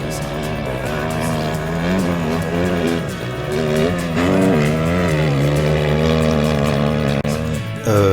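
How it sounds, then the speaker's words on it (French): A loud, sustained engine roar with rising and falling revving pitch, continuous throughout, like racing vehicles passing at speed, in the Moroccan desert. "on entend au loin un vrombissement de moteur qui annonce une énorme surprise"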